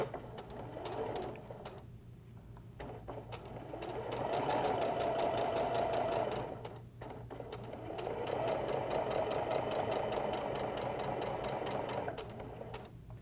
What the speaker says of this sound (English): start sewing slowly. Taking a couple stitches, and then I'm gonna take a couple stitches backwards and back forwards again.